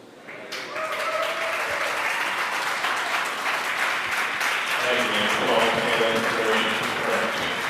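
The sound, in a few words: clapping at SpaceX mission control after SES-12 launch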